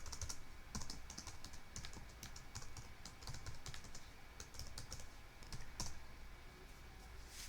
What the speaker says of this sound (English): let's retype my password one more time